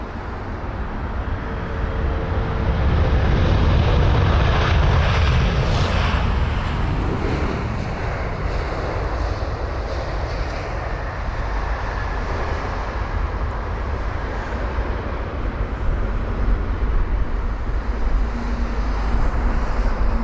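A passenger airliner arriving at London Heathrow after a long-haul flight from San Francisco, a steady broadband rumble heard from close by that holds fairly constant throughout with no talk.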